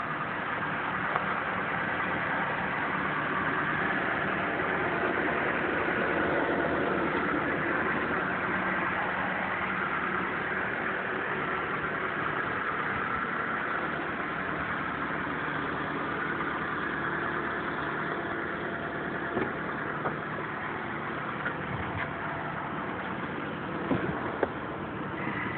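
A 2015 Toyota RAV4 Limited gasoline engine idles steadily while warming up, a smooth continuous hum heard close and alone with no speech.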